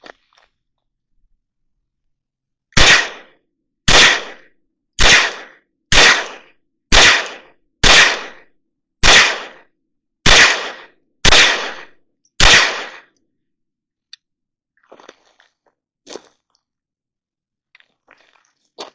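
Ten sharp, loud .22 LR pistol shots from a Glock fitted with an Advantage Arms adapter ring out at an even pace, each with a short decay, followed by faint scattered clicks.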